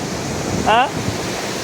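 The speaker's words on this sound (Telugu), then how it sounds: "సముద్రం చూసారా, ఏం అలలుగా పెద్దగా ఏమి లేవు ఇక్కడ." Small sea waves at Varkala beach, Kerala, give a steady, soft, close wash of surf with no distinct breakers, and a brief tonal chirp rises above it just before the midpoint.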